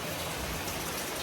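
Rain falls steadily outdoors, a dense even patter of drops hitting surfaces with no other sounds standing out.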